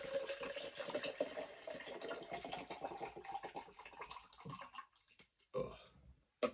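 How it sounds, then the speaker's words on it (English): Half a litre of water poured into an energy drink bottle, a close gurgling stream under a voice, tapering into short splashes and pauses toward the end. "it says between 400 and 500 millilitres of water. So I'm just going to chuck in 500."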